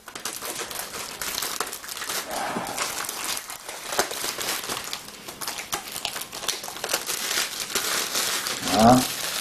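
Crinkly plastic packaging around a Nintendo Wii is handled and torn open, close, irregular crackling and rustling bursts with quiet talk in the background.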